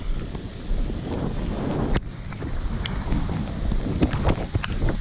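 Strong wind roaring across open water during kayak fishing from a VIBE SG130 kayak, steady buffeting gusts close on the microphone with splashy surges, no talking.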